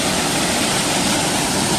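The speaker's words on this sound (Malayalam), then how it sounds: "ഈ വെള്ളം ഇങ്ങനെ ഒഴുകി പോയിട്ടാട്ടോ." Water from Vattayi Waterfalls in Thrissur rushes in a dense, unbroken roar, loud and close, with no voices.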